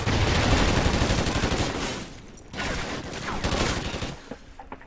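Automatic gunfire in Call of Duty Ghosts, a dense rapid stream of loud shots that dips briefly mid-way before resuming in bursts, with no talk.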